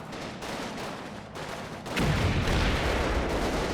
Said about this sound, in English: My guys in position on the tree line there have also begun to open fire.